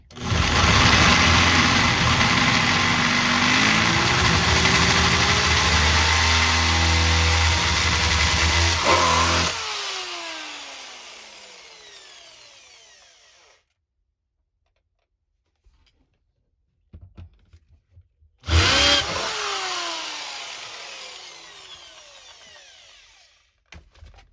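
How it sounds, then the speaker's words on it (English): A loud power drill with a 3/8-inch bit runs steadily for several seconds, then winds down to silence before a short second burst that spins down again, drilling out a hole during an automatic-to-five-speed shifter conversion. "Okay, we got our 3/8 drill bit in there. I'm just going to go ahead and drill it out"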